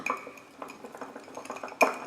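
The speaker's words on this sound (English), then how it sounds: "I'm just going to whisk it for another 1 minute" Batter for a banana, chocolate and almond mug cake is whisked in a bowl or mug, producing quick irregular clinks and scraping taps of the whisk against the sides, close and fairly quiet, with a sharper knock near the end.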